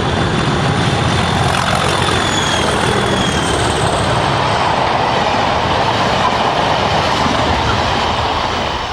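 A pair of Class 37 diesel locomotives drags a train past, a loud, continuous engine roar with rumbling wheels and a steady whine, close by and unbroken for the whole span.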